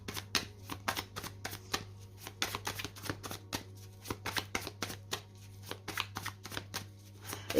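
A tarot card deck being cut and shuffled by hand, a close, quiet run of rapid riffling and slapping card sounds in irregular bursts, continuing without talk.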